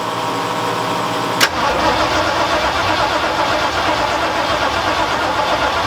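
Rebuilt engine of a Ford F100 pickup cranks and fires on the first try, a sharp catch followed by a loud, steady idle rumble close by.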